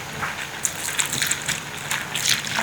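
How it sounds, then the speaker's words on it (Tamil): Coconut milk poured into a pot of Sri Lankan style dal curry, a close, continuous liquid gush with soft splashes and bubbling throughout, no voices over it. "இப்போ நாங்கள் தேங்காய் பால் கொஞ்சம் ஊற்றி"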